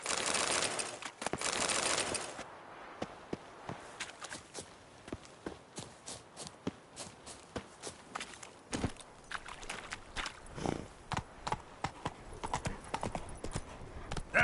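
Roach the horse's hooves clip-clop in The Witcher 3, a steady walking gait of distinct close hoof knocks on ground, preceded by a brief loud burst of other noise at the start.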